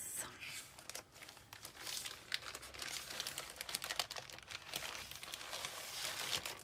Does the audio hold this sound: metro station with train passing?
no